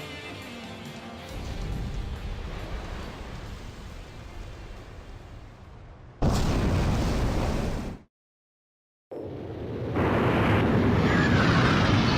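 Heavy rumbling explosions roll through the air as the submarine carrier Hrimfaxi sinks in the Razgriz Straits in Ace Combat 5, swelling into a louder roar before cutting briefly to silence and resuming.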